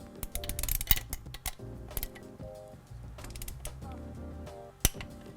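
A ratchet clicks rhythmically at close range while transmission case bolts are tightened on a Mazda Miata. Several quick bursts of clicking come one after another with short pauses between them.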